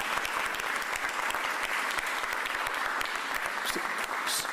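Sustained audience applause at a mayoral press conference on SEPTA cuts, a steady dense wash of many hands clapping at even loudness throughout, with no voices over it.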